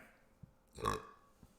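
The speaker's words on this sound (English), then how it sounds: "I'm gonna burp again because I've been talking so much" A single short burp from a man in the middle of a long stretch of talking, soft and close, rising and fading within about a quarter second in an otherwise quiet room.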